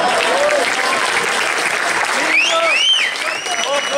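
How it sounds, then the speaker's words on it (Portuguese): An audience at a FNAC store event breaks into loud, close applause, dense clapping sustained throughout with voices whooping and calling over it. "com a salva de palmas"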